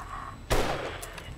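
A single sharp gunshot cracks out in the video game 7 Days to Die, followed by a short ringing tail, with no one speaking.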